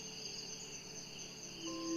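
Cicadas sing at night deep in the mountains by a calmly flowing river, a steady high continuous buzzing drone that swells slightly louder near the end, with no voices.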